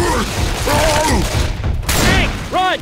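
Rapid gunfire from survivors shooting at the Tank in Left 4 Dead 2, a dense, continuous burst that runs loud and close under excited voices, with a swelling roar partway through.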